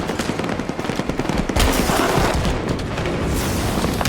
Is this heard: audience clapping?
no